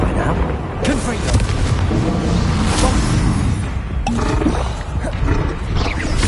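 A Confringo spell explosion from the Hogwarts Legacy video game, with sharp blasts bursting out amid a constant roaring, rumbling din of combat effects, loud and dense throughout.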